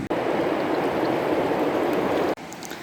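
A river rushes beside a campsite in Croatia, a steady broadband wash of flowing water that holds loud and constant for nearly the whole stretch, with a brief cut near the end.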